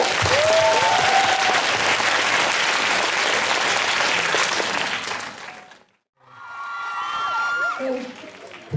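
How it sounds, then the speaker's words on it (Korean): Warm applause welcomes a singer's stage at a National Cemetery concert: loud sustained clapping that fades out, then a voice speaks over returning crowd noise. "뜨거운 박수 보내주시기 바랍니다"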